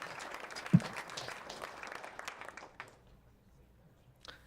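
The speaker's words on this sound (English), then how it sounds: "let's give him an extra round of applause for successfully beating that fear" Meetup audience gives a round of applause, moderately loud clapping that thins out and fades to near silence after about three seconds, with a brief thump early and a faint sound near the end.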